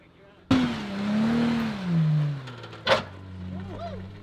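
A 4x4 engine on a steep 45-degree rock face on a backcountry trail fires up sharply and revs hard in low range, the pitch rising and falling as it climbs, with a sudden clunk midway and voices talking over it.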